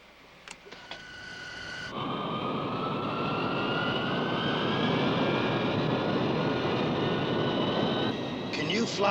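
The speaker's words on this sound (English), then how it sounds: "You want to put us in takeoff position?" Jet airliner engines roar steadily as the plane taxis into takeoff position in a 1971 film, a loud sustained rumble with a rising whine that swells after a quieter start and stays near and constant.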